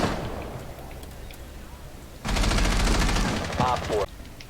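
Dense automatic gunfire bursts loudly in a team match of a tactical shooter game, starting abruptly midway and rattling for nearly two seconds after quieter background game noise, with brief voice chatter near the end.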